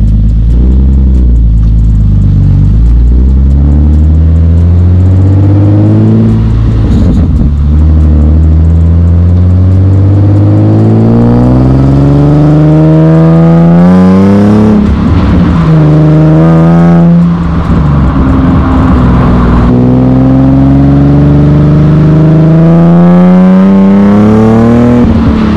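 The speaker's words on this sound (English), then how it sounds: "I'll try go for a drive and show you what I mean with bushing having play on acceleration." A car with worn, blown-out stock differential bushings that have play under acceleration is driven and accelerated hard, with a loud engine drone whose pitch climbs steadily through several gear pulls, close and continuous with no talk.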